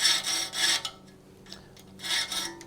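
A metal file rasps across the teeth of a hand saw in two long, steady strokes with a brief quieter pause between them, close by and fairly faint.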